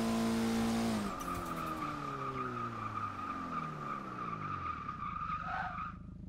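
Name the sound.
car tires skidding with locked brakes in Forza video game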